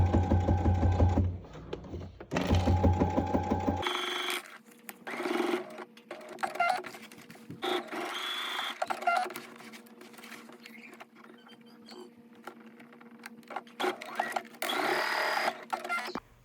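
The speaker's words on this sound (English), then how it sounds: "You're going to stitch the sides of the pocket, catching the triangles, and sew around straight across the top." A sewing machine stitches the sides of a welt pocket in short, loud, rapid runs that stop and start, followed by quieter handling sounds and a final burst of stitching.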